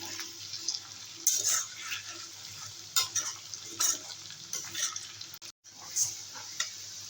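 Continuous sizzling of chopped onions frying in a pan with bay leaf, cinnamon, cloves, cardamom and whole garlic, with intermittent stirring scrapes and clinks throughout, one brief dropout near the end.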